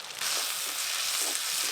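Onion, ginger and garlic paste frying in oil for a Sundarbans crab curry gives a close, steady, bright sizzle that runs without a break for nearly two seconds.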